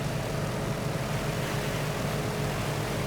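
A Yak-52 aerobatic propeller plane in the DCS World flight simulator drones with a steady, loud engine and propeller roar that holds evenly throughout, with no voices over it.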